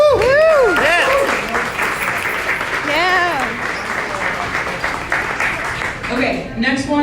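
Volunteers at a congressional canvassing event clap in a loud, sustained round of applause, with whooping, cheering voices rising over the clapping and a few shouts near the end.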